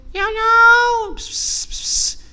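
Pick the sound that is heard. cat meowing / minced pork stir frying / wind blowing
cat meowing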